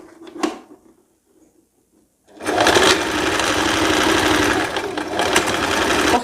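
A sewing machine stitches the seam joining a dress's waist to its bodice, running in a loud, steady, close mechanical whir after a couple of seconds of light handling noise and near silence.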